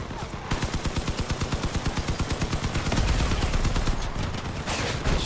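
Gunfire from the vehicle combat game Crossout rattles in a fast, continuous burst of evenly spaced shots, loud and close, swelling into heavier cannon-like blasts near the end.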